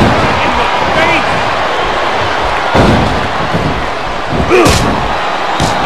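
Punches and strikes land in a Smackdown vs Raw 2010 wrestling video game, giving several dull thuds and slams over a steady crowd-like roar, with a sharper impact near the middle and another toward the end.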